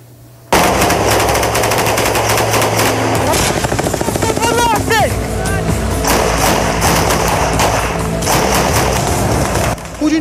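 Machine gun fire from an armored vehicle in a combat zone, loud, dense bursts sustained across the clip, with a whistling rising tone in the middle and faint voices underneath.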